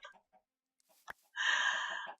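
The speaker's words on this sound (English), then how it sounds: "Oh, I'm going to have to kill some chickens" Video-game chickens cluck in short scattered bursts, then break into a louder, sustained squawking cackle near the end, close and clear against silence, with one sharp click-like hit in between.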